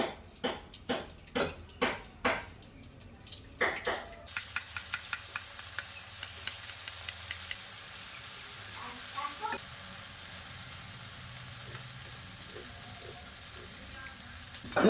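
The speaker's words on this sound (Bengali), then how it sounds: "তেলটা গরম হয়ে গেছে এবার আমি ব্যাটারটা যে ব্যাটারটা গুলে রেখেছিলাম ওই ব্যাটারটা দিয়ে দেবো" Palm-fruit bonde batter falling through a slotted spoon into hot oil: a run of sharp rhythmic taps at first, then a continuous bubbling sizzle that settles into a steady frying hiss.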